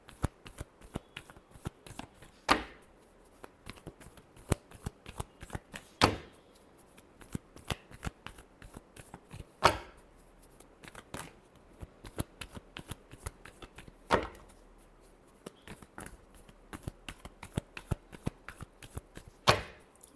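Tarot cards being shuffled by hand during a reading, a steady run of soft riffling flutters broken every few seconds by sharper snaps as the deck is squared, close and fairly quiet with no talk over it.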